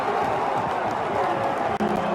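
A large crowd roars and applauds at a men's college lacrosse playoff game after a goal, the cheering sustained and loud throughout, with a brief dip near the end.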